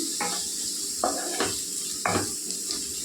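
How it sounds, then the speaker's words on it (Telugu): Chili powder frying in hot oil for a cabbage curry, a steady soft sizzle underneath with several short scraping stirs of a spoon against the pan, close and even, no talking. "కొద్దిగా వేగాలండి కారం"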